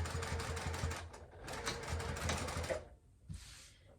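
A sewing machine back-stitching fabric for a pint cozy, with fast rhythmic needle chatter in short bursts, a brief pause and then a final quick run of stitches, close and clear.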